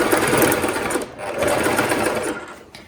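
A sewing machine runs in fast bursts, stitching a palazzo, its steady close rattling whir pausing briefly and then starting again.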